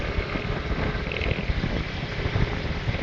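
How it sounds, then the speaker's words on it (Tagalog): Steady roaring wind buffets the microphone during a bicycle road race, a dense continuous rush with low gusty rumbling and no clear pauses. "napakalakas ng hangin mga idols."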